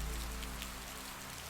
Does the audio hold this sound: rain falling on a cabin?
yes